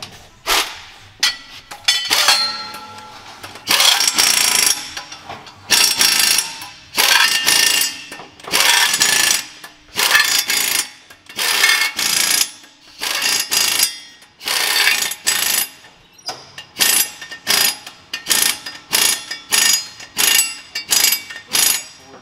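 Rapid clicking bursts from a ratchet wrench tightening flex plate bolts during a transmission swap on a Ram 1500, repeated in short close runs with brief pauses, and someone speaking at times.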